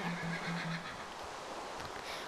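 A Minecraft horse neighs in a short whinny with a steady, buzzy tone, close and fairly loud over a continuous game background, with no talking.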